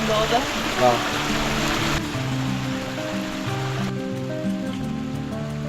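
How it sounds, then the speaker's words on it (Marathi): A waterfall in the foggy Sahyadri mountains roars steadily, loudest at first, then fades beneath layered music that carries on to the end. "त्याहून कोसळणारा हा धबधबा"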